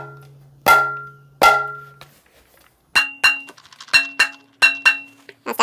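Madhura mridanga drum struck with the nuk stroke: two resonant ringing hits with a steady low drone, then a quicker run of sharp, bright strokes, each ringing briefly with clear tonal overtones, close and loud, no talking.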